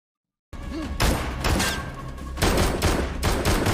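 Gunfire from the TV series Wolf Pack crackles in dense, rapid bursts after a brief silence, loud and close, with heavy thumps mixed through the volleys.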